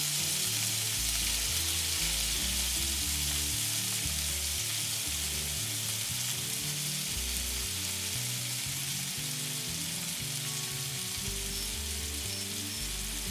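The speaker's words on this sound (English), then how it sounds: "we want to brown the chicken, and that involves stir frying" Chicken sizzles and crackles steadily as it is stir-fried in a hot pan for Thai pad krapow, a dense continuous frying hiss with occasional stirring scrapes.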